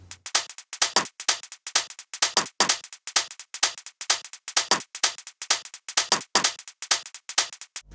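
Percussion track playing back in Ableton Live, a fast, steady, swinging pattern of crisp bright hits, roughly a dozen clustered groups, close and alone with no voices.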